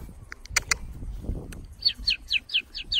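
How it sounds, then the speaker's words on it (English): Pink and grey galahs call from a tree in a quick series of sharp, high chirps, about six evenly spaced near the end, after a few scattered bird notes and some low rustling, with no one speaking. "look at those parrots. I don't know if you can see them in the tree. Pink and grey galah."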